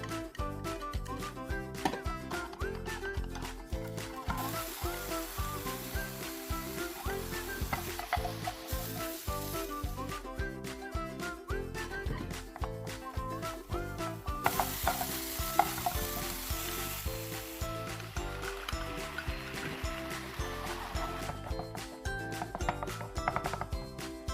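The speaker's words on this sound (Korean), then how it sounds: "채 썬 소고기를 볶아줍니다" Julienned beef stir-fried in a frying pan, a continuous loud sizzle with repeated scraping and tossing strokes, over background music, no speech.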